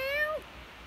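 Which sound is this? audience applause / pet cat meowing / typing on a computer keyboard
pet cat meowing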